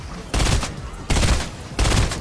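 Three loud gunshot bursts from the video game Fortnite, evenly spaced about a second apart, each sharp blast trailing off briefly.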